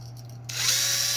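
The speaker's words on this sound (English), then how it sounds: "take a nice wire wheel and grind down all the rust" A power tool spins up with a wire wheel biting into rusty brake hardware on a 2015 Chevy Impala, a sudden bright high-pitched whine and scraping hiss that stays loud and close after a brief motor hum.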